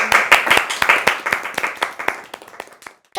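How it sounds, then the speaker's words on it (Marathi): An audience claps after a talk, with dense, scattered hand claps at close range that thin out toward the end before a brief pause and a voice starting. "सगळ्यांनी टाळ्या का वाजवल्या?"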